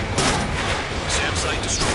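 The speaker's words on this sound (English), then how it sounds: "SAM site destroyed." Explosions and rapid weapon fire destroy a SAM site during an Ace Combat 7 air-combat mission, a dense, continuous barrage of booms and crackling blasts that never lets up.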